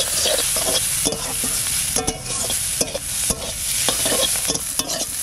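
Small river shrimp frying in a pan with raw garlic, a steady loud sizzle broken by repeated scraping stirs of a spatula, close up with no talking.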